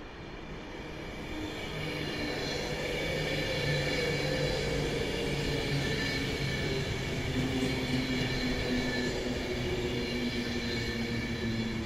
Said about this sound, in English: there's another Avanti coming up the line